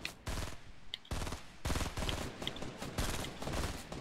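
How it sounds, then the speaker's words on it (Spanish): Rapid bursts of gunfire from the Fortnite video game crack out in a series of sharp volleys, some louder and nearer, others quieter, with short gaps between them and no talking. "Te escuché de acá los balazos."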